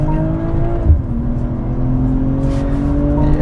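A BMW M340i xDrive accelerating hard, its engine note rising in a strong steady drone with a brief dip as it shifts, loud and close from inside or beside the car.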